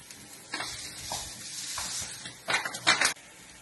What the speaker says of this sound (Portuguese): Tá torrando o arroz